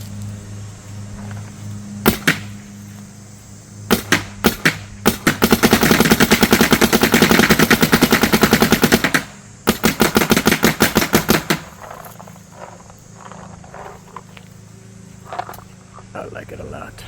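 A Luxe Aire paintball marker fires in capped semi-auto mode: a few single shots, then a long rapid string of crisp pops, a brief pause and another fast burst, close and loud, with someone talking before and after.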